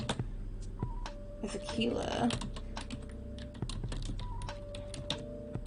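Computer keyboard typing during a writing session, a steady run of quick clicks, some with a short beep tone, continuing under talk that rises in the middle of the clip.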